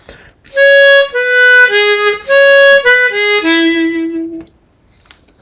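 A harmonica plays a slow descending phrase of clear sustained single notes, each stepping lower, loud and close in a quiet room, the final low note held before fading out.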